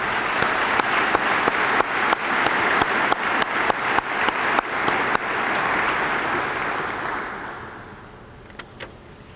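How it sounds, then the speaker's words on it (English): An audience at an agricultural engineering building ceremony applauds the platform guests, with sustained clapping and a few sharp, distinct claps standing out before it fades away. "I would ask you to join me in applause for the platform guests."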